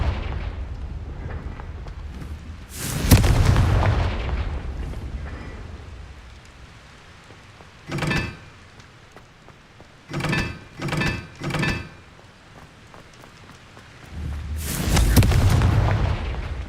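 Confringo blasting-spell explosions from the Hogwarts Legacy video game: heavy, booming blasts, with one big burst, a single mid-clip hit, a quick cluster of three, and a long rumbling final blast, between quieter stretches.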